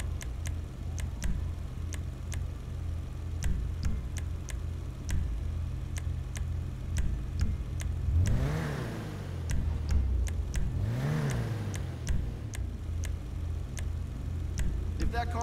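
A car engine revs twice, rising and falling in pitch, under a steady low idle, with regular ticking and a voice speaking faintly in the background.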